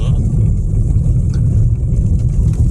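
Steady low road rumble from inside a car moving slowly along a road toward Novokrainka, a continuous engine and tyre drone without talk.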